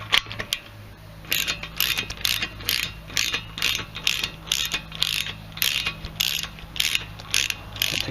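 Brake caliper retaining pins being unscrewed on the front brakes of a Mercedes GL450 (X164), heard as a rapid, close ratcheting click repeated in steady bursts for several seconds with no talk.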